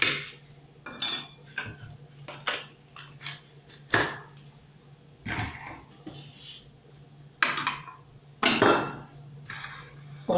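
Two heaped spoonfuls of sugar go in one after another for a fresh peach juice, the metal spoon clinking and knocking against a container in a series of sharp, close, irregular taps with no talk.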